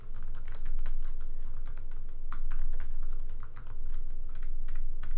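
Typing on a computer keyboard, with rapid, uneven clusters of key clicks heard close over a steady low hum, without any talk.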